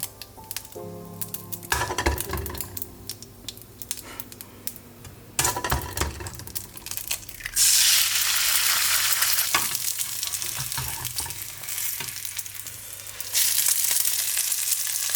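Bacon and a freshly cracked egg frying in a pan, a loud steady sizzle that swells in bursts, preceded by clattering and clinking of shell, utensils and pan close by.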